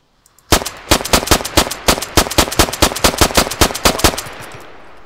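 Rapid bursts of automatic gunfire in the Arma 3 Exile game, a loud close volley of roughly two dozen sharp shots in an uneven rhythm, with no talking.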